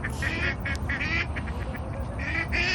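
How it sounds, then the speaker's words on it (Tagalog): Several ducks quack continuously as they are let out of their cage, a dense, overlapping chorus of nasal calls close by with no speech. "Oras na para pagawson ng akong ngamong mga itik."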